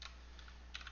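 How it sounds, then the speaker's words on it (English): Faint computer keyboard typing: a few soft, close keystrokes tapping in quick bursts over a low steady hum, with no one speaking. "And then I'm going to type"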